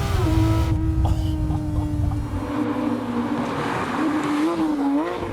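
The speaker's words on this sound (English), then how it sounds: "The sound of that engine." A 440 WHP Nissan Skyline R33 GTR engine roars under acceleration, its pitch holding then climbing and dipping with gear changes, loud and close.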